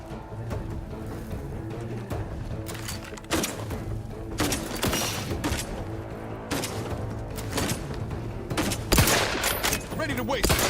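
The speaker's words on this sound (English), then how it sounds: "You let off one more bullet at Zed, and you're gonna get 10 coming back at you" Gunfire in the video game The Outer Worlds 2: sustained bursts of shots and thumping impacts over a dense game soundtrack, loud and continuous with a few sharper blasts.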